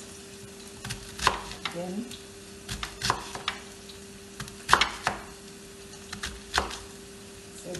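A knife chops cabbage on a board for cabbage rolls, sharp irregular thuds spaced about a second apart, with a steady hum behind and a brief word spoken.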